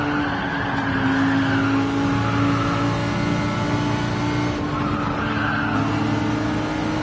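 A Nissan GT-R race car in Gran Turismo 4 holds a steady engine drone with tyre squeal rising and falling as it slides through corners, loud and continuous without talk.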